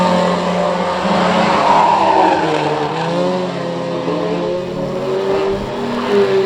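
Pro stock cars race at the Cowdenbeath Racewall, their engines roaring loudly and continuously with tyre squeal and skidding mixed in and no speech over it.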